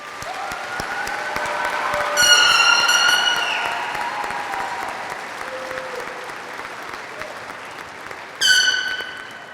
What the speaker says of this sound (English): Let's have a final applause for our new master graduates.